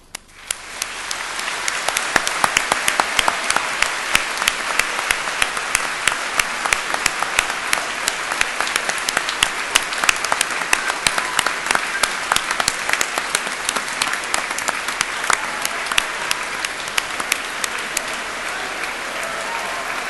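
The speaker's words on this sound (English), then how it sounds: "giving them all an enthusiastic round of applause" A hall full of graduates at a Cardiff University ceremony gives a long, loud, sustained round of applause, dense clapping that swells in the first seconds and holds steady throughout.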